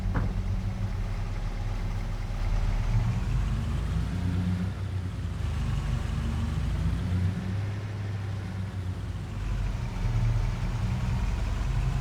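A tractor engine in Farming Simulator 22 drives steadily toward the dealership, a continuous low rumble that holds at a constant level throughout with no talk over it.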